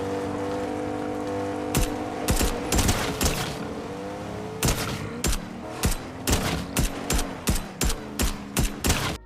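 Rapid gunfire from the Fortnite video game crackles in repeated loud bursts over a steady background roar, shots coming in an even rhythm toward the end.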